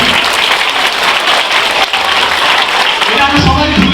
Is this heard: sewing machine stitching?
no